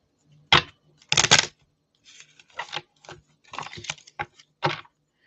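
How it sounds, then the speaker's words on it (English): A deck of oracle cards is shuffled close up, in several bursts of crisp riffling and slapping with short gaps between them and no talk over them. "Let me just shuffle."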